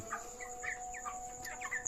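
Several poultry chickens, each about two kilograms, cluck and chatter in short, repeated bursts over a steady background hum, nearby and moderately loud.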